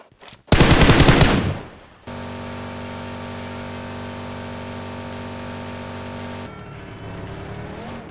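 Loud automatic gunfire bursts in a PUBG Mobile match on the Miramar map, a rapid close volley fading out, followed by a steady droning engine hum from a game vehicle.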